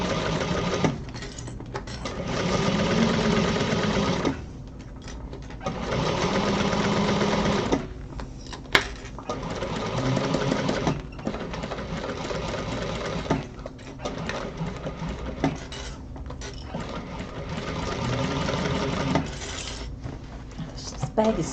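A sewing machine stitches through a large bag in repeated bursts of steady whirring, each run several seconds long and separated by brief pauses, fairly close and loud with faint background noise.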